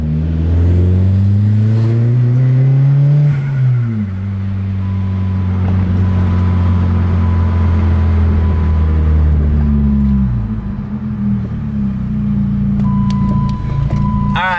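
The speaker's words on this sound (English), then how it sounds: "I'm pretty fucking pumped that I got my car to run and boost normal" A Dodge SRT4 with a turbocharged engine that nearly hydrolocked, running loud and close, revving up and dropping back before settling into a steady idle, with brief electronic beeps toward the end.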